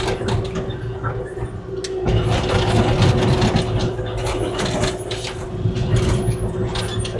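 A Kubota KX040-4 excavator crawls over a rocky road, its tracks giving a continuous clanking, grinding rumble over a steady engine hum, with crunching bursts as the steel moves across the rocks.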